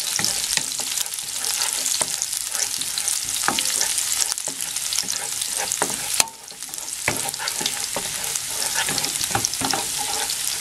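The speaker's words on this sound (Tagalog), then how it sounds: "Sutin natin itong bawang. Hintay natin medyo maluto ng konti." Garlic sautéing in a pan, a loud, close crackling sizzle that runs steadily with a few sharp pops and a brief dip partway through.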